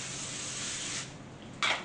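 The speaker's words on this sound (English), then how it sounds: "I'm also going to put a little non-stick spray" Non-stick cooking spray hisses from the can in a steady, close spray burst for about a second, followed by a brief second short spritz.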